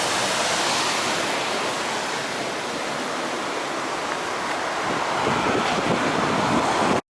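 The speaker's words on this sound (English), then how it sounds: "the first part of the walk would be alongside that tumbling stream" Rushing water of a tumbling local stream near Bontddu, a steady broadband roar that holds close and loud throughout with no voices.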